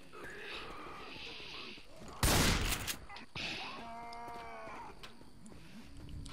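Gunfire in the Left 4 Dead 2 zombie shooter, a single loud burst of shots that cuts through the game's background noise, followed by another weaker report, with animal-like groaning and voices around it.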